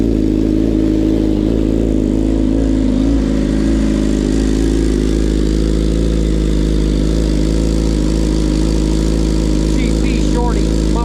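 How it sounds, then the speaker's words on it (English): A Jeep Wrangler 392 with a GP Shorty muffler rumbles loud and deep, holding a heavy, throbbing idle with slight rises in revs throughout. "GP Shorty muffler."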